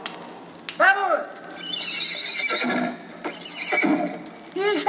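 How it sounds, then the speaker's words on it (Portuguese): A horse whinnies loudly several times with hooves clopping between the calls, close and clear, alongside spoken voices. "Ih, esse cavalo está andando muito devagar."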